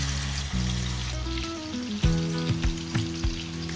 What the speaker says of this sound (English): Fry the marinated fish pieces until they are golden and crispy.